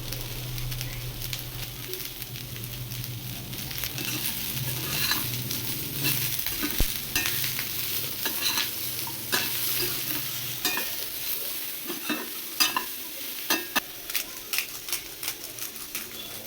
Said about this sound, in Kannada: ಸ್ವಲ್ಪ ಪಿಜ್ಜಾ ಸೀಸನಿಂಗ್ ಬರುತ್ತಲ್ಲ ಅದಿಷ್ಟು ಹಾಕ್ಕೊಂಡು ಒಂದ್ಸಲ ಫ್ರೈ ಮಾಡ್ಕೊಳ್ತೀನಿ.